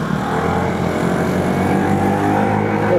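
An Aveta Nova 160 scooter accelerating out of a corner on a mountain road climb, steady droning engine note rising slightly as the throttle opens, loud and close throughout.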